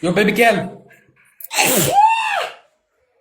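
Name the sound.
sneeze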